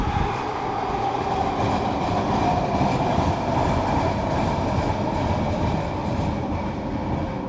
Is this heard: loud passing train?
yes